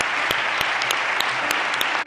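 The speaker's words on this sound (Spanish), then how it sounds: "Y así aplauden los palmeros a su rey." A packed audience breaks into loud, dense applause after Pedro Sánchez announces a democracy action plan, many hands clapping at once in a steady roar, with a few sharp claps standing out along the way.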